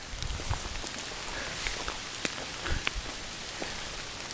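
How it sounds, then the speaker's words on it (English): Hail falling outdoors during a thunderstorm in the wilderness near a campground, a steady dense patter of ice striking the ground and surroundings, with occasional sharper close impacts over a constant hiss and no talking. "It is now hailing."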